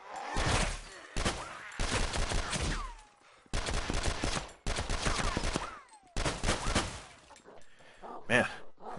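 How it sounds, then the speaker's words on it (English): Rapid bursts of gunfire hit a zombie in the DayZ Mod video game (version 1.8.0.3), loud close volleys separated by short pauses, with a faint sigh-like voice sound between shots. "Man, that zombie really took a lot of bullets."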